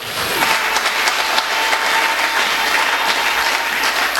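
A church congregation bursts into loud, sustained applause and cheering for the Lord during a sermon, a dense wash of many hands clapping continuously with no speech.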